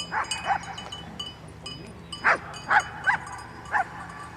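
Dog yipping and barking in short bursts, several sharp calls spaced irregularly with whimpers between them, fairly close and with no talk over them.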